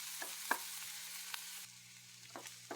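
Onions frying on low heat in a pan, a quiet steady sizzle broken by a few light scrapes of a stirring spoon, with no talking.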